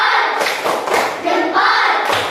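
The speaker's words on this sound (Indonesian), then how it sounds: "Tepuk salut dulu, tepuk salut." Elementary school children in a classroom perform a rhythmic 'tepuk salut' clap, a set of loud, close hand-clap bursts in a patterned sequence, roughly two per second, with young voices faintly mixed in.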